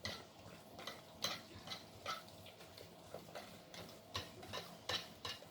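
A spoon works white chocolate into a sauce for profiteroles on a glass stovetop, producing soft, irregular scraping and tapping strokes that sound close and quiet, with no one speaking.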